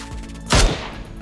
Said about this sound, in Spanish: Vamos a disparar ahora un poquito más arriba, solo un poquito más arriba, para evitar darle en la cabeza.